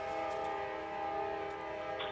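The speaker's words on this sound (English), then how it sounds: "I can hear the train loud and well" A train horn sounds steadily while a train passes during a town council meeting, heard as a sustained tonal blare with a low rumble beneath it. It stays fairly loud and unbroken, and no one speaks.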